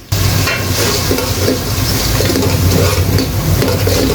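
Beef cooks in a pot with turmeric, cumin and coriander, giving a loud, continuous sizzle and crackle close by while it is stirred, with no pauses.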